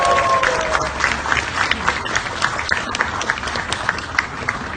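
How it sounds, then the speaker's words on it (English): A crowd applauds steadily for Leader Pelosi at a Tibetan National Uprising Day commemoration, with dense clapping at an even level and a brief voice or tone near the start. "Can we all have a round of applause and gratitude to Leader Pelosi?"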